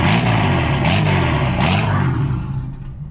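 A 1979 Chevrolet Opala Comodoro engine, started cold, revs hard with a loud, rough throaty roar that rises and surges, then eases off toward the end, heard close with no talking.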